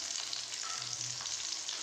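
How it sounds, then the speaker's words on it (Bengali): Potatoes fry in a pan with a soft, even sizzle that holds steady throughout the brief moment, with faint shifting as they are stirred. "হালকা নাড়াচাড়া করে ভেজে নেব।"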